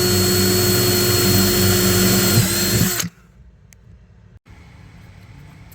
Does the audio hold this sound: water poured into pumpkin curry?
no